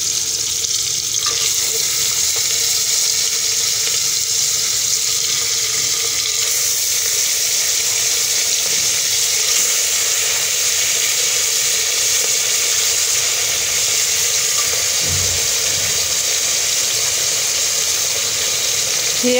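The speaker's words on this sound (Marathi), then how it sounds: "हे बघा ही चरबी टाकून घेतली। आता ह्याला मस्तपैकी तेल सुटते।" Mutton fat sizzles and fries in a pan, a continuous loud hiss that stays steady and close for the whole stretch, with no talking.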